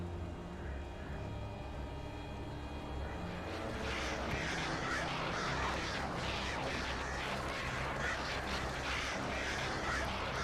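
Possessed birds in the video game Alan Wake: a dense, loud flock of shrill squawking and flapping that swells after a few seconds into a continuous chaotic din, with no talk over it.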